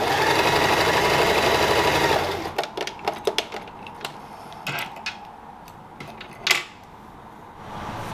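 A sewing machine fitting sleeves onto an open shirt runs in a steady loud whir for about two seconds, then stops and gives way to scattered clicks and handling knocks of the fabric and machine, with no talk.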